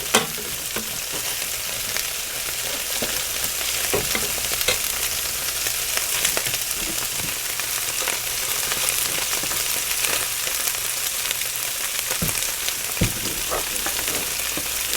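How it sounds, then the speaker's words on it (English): Food frying over an open cooking fire, a continuous crackling sizzle with occasional sharper pops and stirring scrapes, close and steady with no talk. "So on the fire you could do all this, and it doesn't have it don't have to be in a frying pan like right now."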